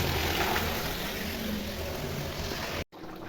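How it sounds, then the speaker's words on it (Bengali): Water pours from a water tanker into storage, a steady, loud rushing hiss with a low rumble beneath it that cuts off abruptly near the end before resuming more faintly. "এই যে ট্যাঙ্কারে করে জল আসে কালকে করে।"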